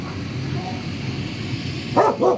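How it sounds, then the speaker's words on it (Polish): At an animal shelter in Germany, a dog gives two quick, close barks near the end, following a stretch of quieter background noise with faint murmuring and shuffling. "Tutaj jest kolejny piesek."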